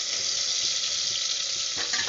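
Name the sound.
onions and spices frying in a pan for mutton biryani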